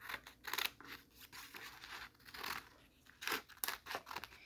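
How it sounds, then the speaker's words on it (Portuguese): Scissors snip and crunch through material for a protogen costume head, a series of quiet, irregular cuts with rustling between them and no talking. "Agora, vamos cortar."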